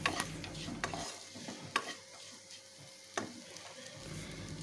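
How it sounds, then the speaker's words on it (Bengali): An egg sizzles softly in oil in a pan while a utensil stirs and scrapes it, with a few sharp clinks and taps over a quiet frying hiss. "ডিমটাকে একটু ভালো করে নাড়াচাড়া করে লাল করে আমি এখন ভেজে নেব"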